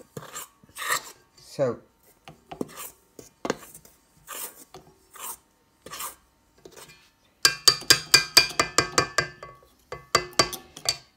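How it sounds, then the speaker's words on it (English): A spoon stirs cookie icing in a bowl with a quick, rhythmic run of scraping, clinking strokes, preceded by scattered quiet speech and handling noises. "And now, with a spoon, we mix a little bit."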